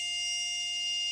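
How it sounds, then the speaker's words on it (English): A liquid level sensor's low-level alarm buzzer, triggered by a moving float, sounds continuously and loudly, a steady high-pitched electronic tone with no pauses. "You can hear the low alarm relay output is activated by moving the float."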